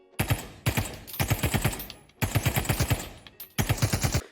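Bursts of rapid automatic fire from an MP40 submachine gun in a VR shooting game, several sharp rattling volleys separated by short pauses, loud and close with no talking.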